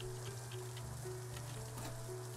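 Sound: rain in video game Littlewood

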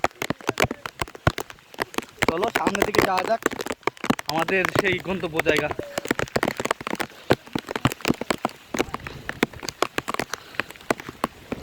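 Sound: rain falling on a hill

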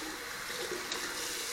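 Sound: water running to wet a synthetic shaving brush

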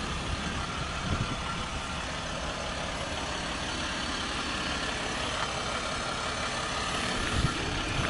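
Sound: Ram 1500 Longhorn diesel truck idling, exhaust noise

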